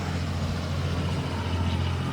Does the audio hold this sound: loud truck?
yes